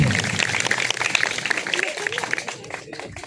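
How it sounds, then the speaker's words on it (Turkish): An audience applauds young people at a youth festival, a dense, continuous patter of many hands that holds steady and then starts to thin and fade toward the end, with a voice faintly audible beneath it. "Onun için tekrar bu alkış kendileri için olsun gençlerimizin"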